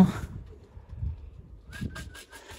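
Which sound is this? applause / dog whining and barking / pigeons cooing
pigeons cooing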